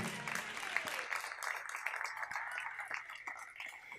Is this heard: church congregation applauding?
yes